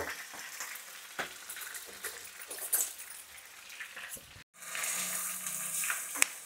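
Onion pieces fry in a pan of oil in a home kitchen, giving a steady close sizzle that grows louder and denser partway through, with no talking.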